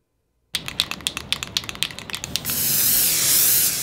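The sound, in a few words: spray can spraying paint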